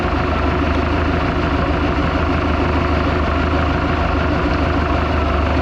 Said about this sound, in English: And the engine noise in this has completely subsided. This engine is as quiet as any engine should be.